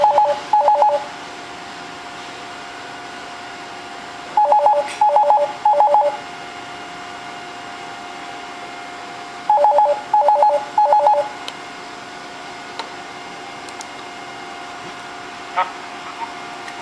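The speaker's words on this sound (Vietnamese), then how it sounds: "Gọi qua internet thì nó sẽ đổ chuông ở trên cái máy điện thoại bàn." A Siemens UC desk telephone rings for an internet call placed from an HTC Desire S smartphone, giving three spaced bursts of short electronic trills separated by long pauses, with a faint hum in between.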